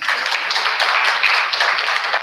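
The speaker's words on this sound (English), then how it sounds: "Round of applause for Ben." Sustained audience applause at a tech talk welcoming a speaker, dense and steady throughout with no pauses, fairly loud and close.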